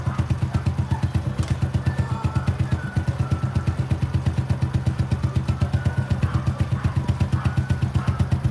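A motorcycle engine idles steadily while its generator charges an electric bike battery, giving a close, even putter with a rapid regular pulse and light mechanical clatter that runs throughout, with no one talking.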